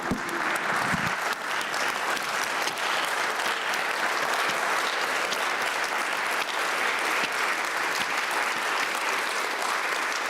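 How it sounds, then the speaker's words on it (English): An audience claps in sustained, even applause, a thick and constant wall of hand claps lasting about ten seconds with no pauses. "Let's give a round of applause."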